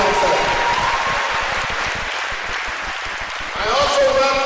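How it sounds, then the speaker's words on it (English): A convocation ceremony audience applauds for the Vice Chancellor, dense sustained clapping throughout that swells louder near the end while voices carry over it. "A round of applause for Madam Vice Chancellor."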